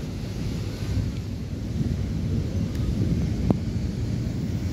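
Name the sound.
strong wind on the beach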